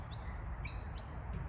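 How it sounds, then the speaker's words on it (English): Birds sing outdoors, a few faint high chirps and short whistled notes over a low steady background rumble. "I don't know if it's picking up the sound of the birds"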